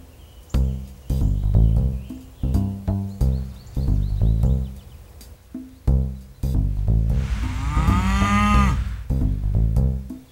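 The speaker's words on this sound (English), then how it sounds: "Wow, cows can certainly be loud." Cows moo loudly at close range, a series of deep, drawn-out bellows, some short and some long, with one rising strained call near the end; no talking.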